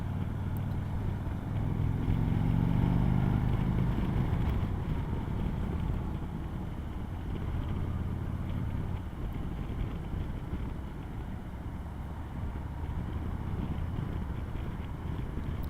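A 2018 Harley-Davidson Road Glide Special on the road, its low engine drone steady under heavy wind rush, slightly louder early and then settling into a constant cruising roar.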